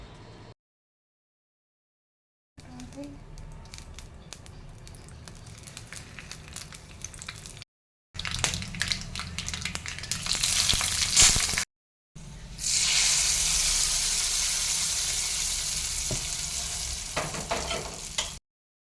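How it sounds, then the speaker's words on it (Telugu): Tempering spices, curry leaves, dried red chillies and garlic cloves fry in oil for tomato roti pachadi, sizzling steadily in several separate stretches with stirring scrapes. The hiss grows louder and denser in the final stretch. "ఆయిల్ 2 నిమిషాలు వేగిన తర్వాత పోపు దినుసులన్నీ వేసుకోవాలి"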